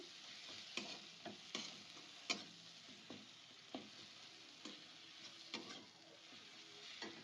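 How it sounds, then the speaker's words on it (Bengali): Home-roasted spice mix sizzles quietly in a pan while a spoon stirs it, giving a soft frying hiss broken by a string of sharp scraping clicks at an uneven rhythm. "দিয়ে একটু নাড়াচাড়া করে নেব।"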